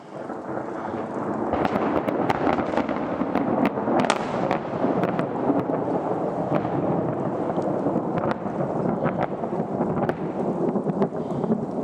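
Rolling thunder from a summer thunderstorm in Prescott, Arizona rumbles continuously, with sharp crackling bursts scattered throughout and a steady rush of rain underneath; no voices.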